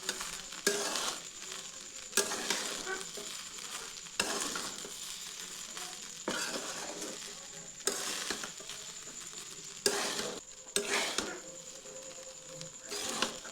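Chicken fried rice tossed and stirred in a pan, a soft continuous sizzle with rhythmic scraping strokes every couple of seconds, quiet and close.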